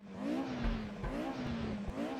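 A Mercedes 190 Evo race car engine in a racing video game revs up and down in repeated swells on the Nordschleife, a steady buzzing whine near and loud, with a faint thump or two underneath.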